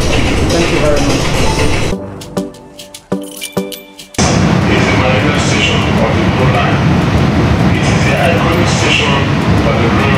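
A Lagos Blue Line light rail train rumbles loudly along its rails, briefly dropping to a quieter stretch with clinks and clacks before the roar returns.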